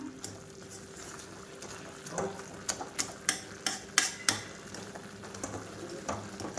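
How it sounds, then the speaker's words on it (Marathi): Cooked pav bhaji vegetables mashed in a pan with a masher, a series of soft squelching thumps and taps, moderately close but fairly quiet, with no voices. "मॅशरच्या साहाय्याने पूर्ण भाज्या मस्तपैकी मॅश झाल्या आहेत"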